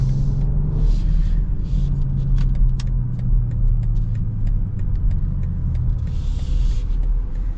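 A 2026 BMW X5 xDrive40i engine in sport mode hums as a steady low rumble from inside the cabin, a smooth continuous drone with faint ticks and road noise over it.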